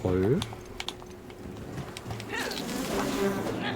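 Bees buzzing around a hive in the video game Enshrouded, a thin insect drone with clicky keyboard-like taps and a swelling buzz toward the end.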